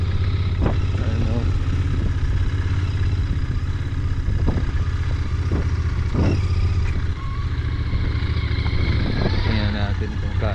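A Royal Enfield Interceptor motorcycle ridden along the Taal lake shore road from Laurel Baywalk toward Barangay Gulod, its engine a steady, loud, close drone with a voice talking over it throughout.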